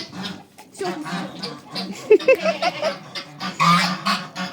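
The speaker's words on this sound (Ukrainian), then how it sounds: "Б'ється гусак з моєю Наталкою" Geese honk and squawk agitatedly in short, uneven bursts, close by, as a gander fights with a person who talks over the commotion.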